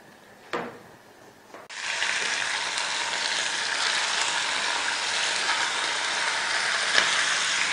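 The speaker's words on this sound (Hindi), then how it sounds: "2 खाने के चम्मच ऑयल डाल के लहसुन अदरक को फ्राई करते हैं" Garlic and ginger fry in two tablespoons of oil for a keema dish. After a couple of faint knocks, a loud, steady sizzle bursts in and holds without a break, close by and with no talk.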